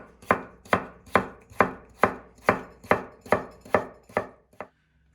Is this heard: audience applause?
no